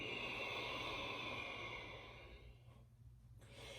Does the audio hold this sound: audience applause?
no